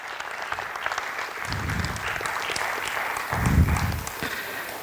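Audience applause at a talk on a software company's revenue model, a steady wash of clapping with a couple of low thumps mixed in, lasting a few seconds.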